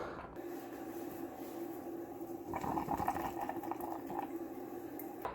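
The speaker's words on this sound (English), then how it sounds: "Water's starting to come through." Water trickles and splashes steadily from a Bonavita showerhead brewer into a Chemex, growing louder and busier partway through, with a low continuous hum underneath.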